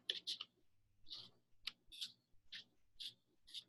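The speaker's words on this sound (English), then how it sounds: "I usually just shuffle until it feels good to stop." An Everyday Miracles oracle card deck is shuffled by hand, giving about seven short, crisp taps at a fairly even rhythm, close up and with no talking.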